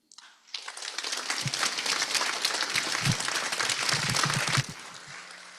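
Audience applause at the 2025 Northwest Jewelry & Metals Symposium, a dense sustained round of clapping that rises quickly, holds steady at close range for several seconds, then stops abruptly.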